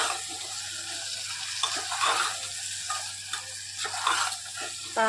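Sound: ivy gourd (tondli) being stirred into masala in a cooker

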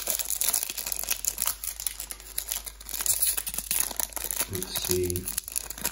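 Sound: crinkling foil wrapper of Magic the Gathering booster pack being opened

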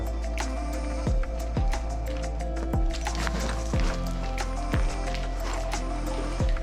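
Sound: stream water flowing in a cave

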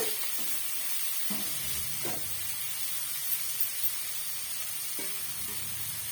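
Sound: sautéing idli upma ingredients in a pan

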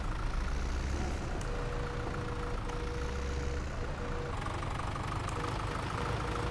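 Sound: tractor engine idling in a farming video game

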